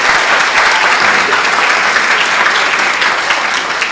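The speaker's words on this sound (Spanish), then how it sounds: "Quiero un fuerte aplauso para el doctor." An audience applauds a speaker at a formal talk, a loud, dense wash of clapping hands that holds steady throughout without letting up.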